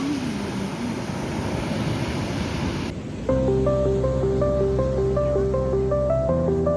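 Strong waves surge against a rocky beach at Sanzhiika, a broad, steady hiss of surf for the first few seconds before tonal music takes over and covers it.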